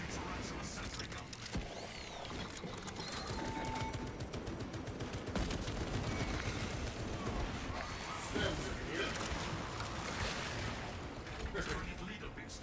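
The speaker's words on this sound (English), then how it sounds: "Activating tarantula sentry gun." Tarantula sentry gun turret in Space Marine 2 firing a dense, continuous barrage, loud and sustained throughout amid battle noise, with a voice speaking over it.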